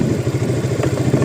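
A motorcycle rides across a village field, its engine chugging in a quick, steady pulsing rhythm close by, with some rattling clatter over the drone.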